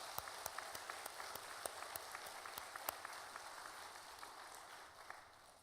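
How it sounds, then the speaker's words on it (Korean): A church congregation applauds during a Korean choir dedication worship service, a faint, steady patter of many hands with scattered sharper claps, fading slightly toward the end. "우리 김정희 권사님과 또 김정희 권사님을 쓰셔서 큰일 이루어 가시는 하나님 앞에 영광의 박수를 올려드리십시다."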